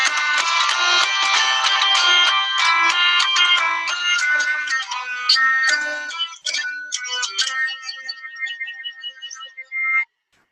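A hurdy-gurdy, a wheel-turned string instrument, plays a short bright melody over a sustained droning tone, the notes fairly quick at first then slowing and trailing off, close and unaccompanied.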